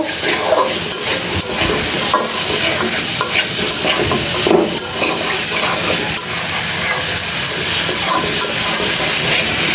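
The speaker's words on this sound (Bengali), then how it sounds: "মুলাগুলো সুন্দর করে কষিয়ে নেই মশলার সাথে" Radish pieces sautéing with spices in a pan for a rohu fish curry, a loud and continuous hissing fry with constant stirring scrapes and rattles, close by and without speech.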